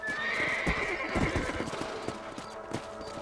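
Horses in the Red Dead Redemption video game, hooves clip-clopping at a trot with a clear neigh near the start, steady and close over a constant outdoor ambience.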